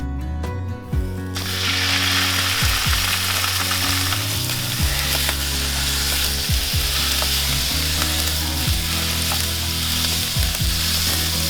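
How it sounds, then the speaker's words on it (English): Ground beef, about a pound, browns in a skillet with olive oil over medium-high heat, giving a loud, steady sizzle with occasional scraping stirs and clicks throughout after a quieter opening second. "we're gonna brown up about 1 pound of ground beef"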